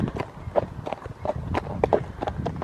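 Horses walk past nearby, their hooves clip-clopping in an uneven, overlapping rhythm of distinct knocks, moderately loud against a low background rumble.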